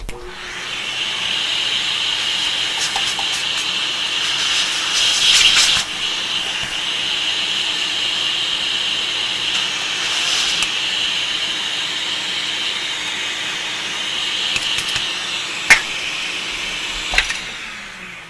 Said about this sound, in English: Okay, so here we go, a moment of vacuuming here.